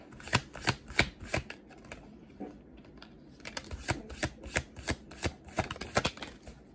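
Tarot cards are shuffled during a reading: a quick run of crisp riffles and taps, then a brief lull before another burst of close, sharp card slaps, with no talking.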